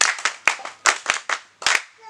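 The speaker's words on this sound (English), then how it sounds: "Let's clap for that one." A small group claws out a loose, uneven run of hand claps, about nine sharp, distinct smacks spread over two seconds, close and fairly loud with brief gaps of quiet between them.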